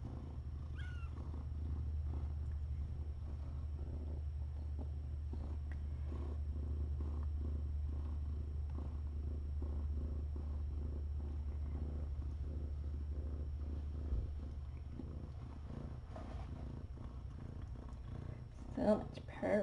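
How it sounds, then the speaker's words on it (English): A cat purrs steadily and close up, a low continuous rumble running throughout while a person speaks softly over it now and then. "So much purring."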